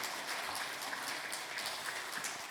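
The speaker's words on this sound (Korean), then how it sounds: "우리 박수도 한번 쳐주시고" A church congregation claps during a Sunday afternoon worship service, a soft, steady patter of many hands heard faintly at a distance throughout.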